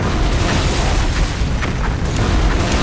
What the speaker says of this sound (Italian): Grossa esplosione a bordo del taglio.